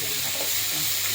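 Tomatoes sautéing in a pan with salt for a chutney: a continuous close sizzle and hiss, fairly quiet and unbroken, with no voices.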